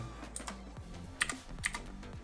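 Keys are pressed on a Rampage ExHero mechanical keyboard, giving a quiet scatter of sharp clicks and clacks at an uneven pace, close and alone.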